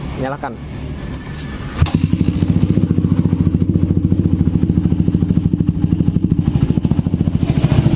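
A Suzuki Satria FU 150 motorcycle, worked on for valve clearance and timing, cranks over and starts, then settles into a steady, fast, even idle heard up close.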